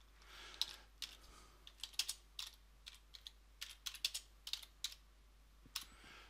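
Keys clatter on a computer keyboard as someone types content for a post, quiet and close, in irregular bursts of clicks with short pauses and no talking.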